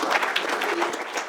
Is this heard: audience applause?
yes